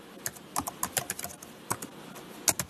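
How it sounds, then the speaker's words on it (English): Typing on a computer keyboard, with quick irregular bursts of crisp key clicks close up and short pauses between them, alone and without speech. "Tab over to the center, type in BAN 310 visualization."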